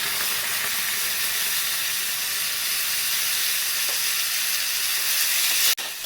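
Tomatoes and tamarind fry in oil for a red chutney, giving a steady close sizzle and hiss with no talk, ending in a sharp click.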